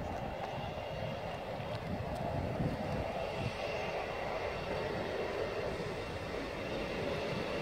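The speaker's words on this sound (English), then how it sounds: "This is a direct train from Woking to Bristol Temple Mead" A Class 159 diesel unit, number 159013 with refurbished interior, runs on the direct service from Woking to Bristol Temple Meads, giving a steady, continuous rumble and hum of wheels and engine throughout, with no talk.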